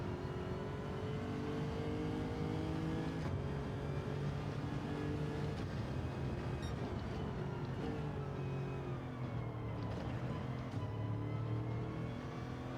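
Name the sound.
race car engine in Gran Turismo 7 video game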